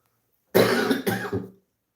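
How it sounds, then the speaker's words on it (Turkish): A short burst of coughing from a sick person, about a second long, loud and close with a couple of rasping pulses, then quiet. "Hastayım demişken şöyle bir de öksüreyim ki tam olsun."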